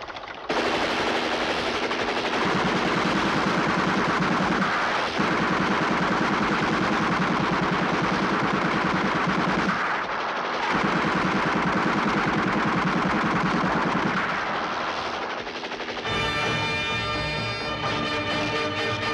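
Sustained, heavy automatic gunfire from a Hindi film rattles continuously and loudly for long stretches, with brief pauses and a shift in tone near the end.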